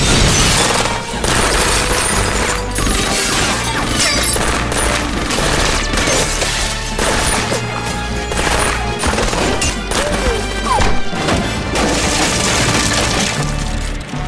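Staged gunfire and set-up explosions in a TV stunt battle scene, dense rapid volleys of shots, cracks and shattering glass pounding continuously and loudly throughout.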